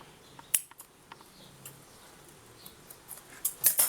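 Scissors snip fabric for a mother-and-baby shoulder bag, a few quiet, close clicks and crisp cuts spaced irregularly, growing busier toward the end.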